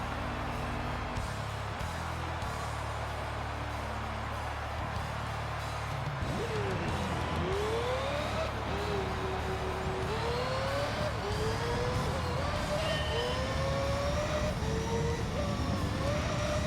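A car engine in Gran Turismo 3 climbs to high revs, its rising whine repeatedly sweeping up through gear changes, loud and continuous with a racing drone underneath.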